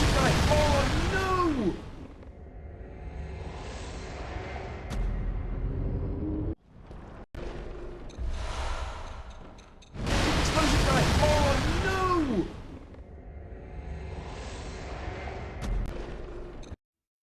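An enemy in Bloodborne sets off explosions, heavy booming blasts that swell and roll out in a couple of waves, loud and near, interrupted by brief silences and mixed with voices talking.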